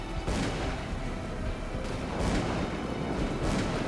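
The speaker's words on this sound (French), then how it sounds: "On évite les balles." Gunfire in the Call of Cthulhu: Dark Corners of the Earth video game comes as dense, booming bursts, loud and continuous over a rumbling background.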